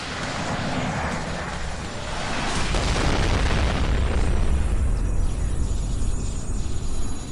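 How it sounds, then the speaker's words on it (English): Warhammer 40,000 tabletop battle scene with a Valkyrie aircraft firing as explosions erupt: a dense, continuous rumble of booms and blasts with heavy low-end roar, loud and sustained throughout, no talking. "The Valkyrie is firing into the far side of the structure, and it seems to be taking fire from multiple sources."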